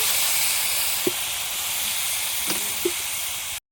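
Water poured into a hot pan of mixed spice paste for a tengra fish curry gives a steady, loud sizzling hiss that runs almost unbroken, with a few faint clinks, then cuts off abruptly.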